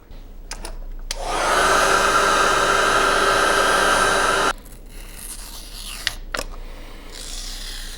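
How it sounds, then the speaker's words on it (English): A heat gun blows steadily on the dash screen of a Yamaha Tracer 900 motorcycle, a loud even rushing hiss lasting a few seconds that cuts off abruptly, followed by quieter handling noises. "just go ahead and blast it with a little bit more heat"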